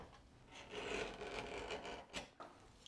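A plaster mold has its back sides cleaned up with a quiet scraping and rasping, faint and close, in short uneven strokes with no talking.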